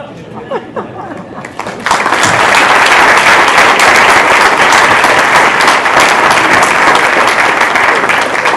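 Audience at a memorial celebration of life in Randolph, MA bursts into loud, full applause after a moment of murmuring, then keeps clapping steadily with some chatter mixed in.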